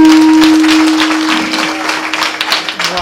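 Audience applause at a Marathi comedy kirtan by Mauli Maharaj Pathade: a dense burst of clapping that starts full and gradually thins and fades over about three seconds, with a steady tone running beneath.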